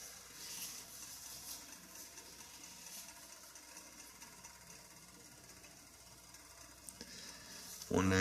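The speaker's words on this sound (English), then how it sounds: "It's the water starting to sizzle." Water begins to sizzle in a pot over a small homemade alcohol stove, a faint, steady hiss with soft crackle running throughout, ending in a brief louder clunk.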